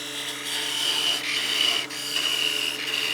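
Wood gnome being parted off on a woodturning lathe: a steady, close scraping and rubbing of the cutting tool against spinning wood, loud and continuous with brief dips, no speech.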